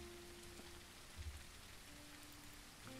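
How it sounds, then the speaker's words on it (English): Steady rain in the survival video game SurrounDead, a constant soft hiss of falling drops at moderate level, with a faint low thump partway through and no talk. "It's a nice rainy day."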